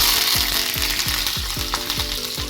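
Chopped garlic, mustard seeds and cumin fry in oil for a summer tomato curd chutney, giving a loud, close, steady sizzle over a low hum that rhythmically dips and recovers. No speech is heard.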